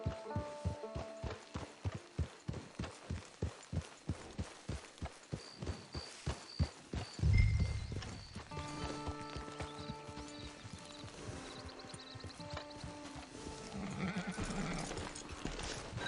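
Horse hooves clip-clop in a steady rhythm in the video game Red Dead Online, then a thud and a horse's whinny, followed by snorting and soft movement against a faint musical background.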